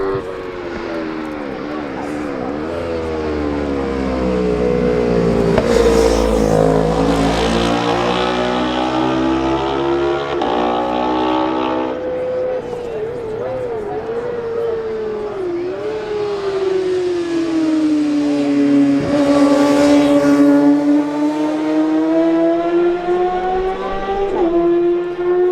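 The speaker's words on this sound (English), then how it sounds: "Next we shall see the Kawasaki's of number 22, Barry Sheehan, and number 3, Benjamin Plant." Kawasaki racing motorcycles scream past in a road-racing newcomers race, engines rising to a loud howl as each bike passes close, then fading, with pitch shifting through gear changes.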